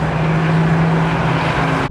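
A four-door Mercedes-AMG GT63S drives hard with a steady loud engine drone and a sustained low tone that holds evenly, then cuts off abruptly at the end.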